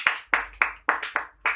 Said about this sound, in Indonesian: beri tepuk tangan untuk Manja.